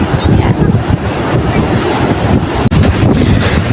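Steady gusts of wind rush past close to the microphone at Bagasbas Beach, with surf rumbling underneath and a brief dropout near the end.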